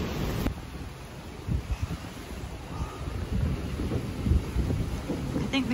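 Strong storm winds of about 40 mph with torrential rain buffet the microphone outdoors, producing a loud, rumbling roar in irregular gusts that continues throughout.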